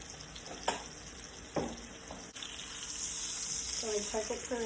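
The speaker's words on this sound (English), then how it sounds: "I want the steak to start searing up" Stuffed ribeye steak searing in a hot pan, a steady quiet sizzle with a few sharp clinks and scrapes from cookware, and a brighter crackle building toward the end.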